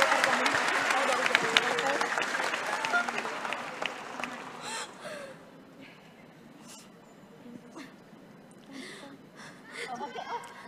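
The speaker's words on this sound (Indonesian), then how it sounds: "ayo kita kasih tepuk tangan dulu untuk Dinda" An audience at a public discussion event applauds for Dinda, dense clapping that swells at first then thins into scattered claps and murmuring voices, with a few claps returning near the end.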